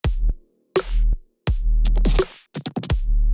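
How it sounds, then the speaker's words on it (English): A sparse electronic beat: deep booming kick and sub bass hits with snappy snare strikes, repeating in a simple loop, no other instruments. "It's literally like a kick and a snare and a sub."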